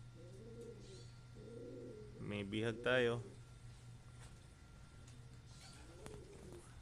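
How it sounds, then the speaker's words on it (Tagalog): A captured pigeon coos softly in short, repeated phrases, close by but faint, while people talk loudly in between. "Palagay ko kalapati ni Kurt to."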